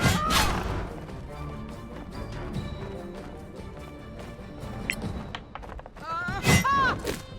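Combat in the Solasta role-playing game as attacks strike a fire elemental: heavy thuds and crashing impacts with scattered hits, ending in a louder burst of whooshing, crackling magical effects.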